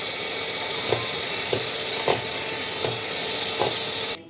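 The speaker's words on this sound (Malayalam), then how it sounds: "പഞ്ചസാര പൊടിച്ചത് കുറേശ്ശെ ഇട്ട് നമുക്ക് നല്ലോണം ബീറ്റ് ചെയ്തെടുക്കാം" An electric beater whirs steadily as powdered sugar is worked into biscuit dough, a constant motor drone with soft periodic knocks before it cuts off at the end.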